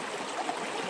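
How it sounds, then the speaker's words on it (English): A creek flows beside a campsite on the Appalachian Trail, a soft continuous rushing and trickling of water heard close by and alone. "Beautiful campsite right next to the creek."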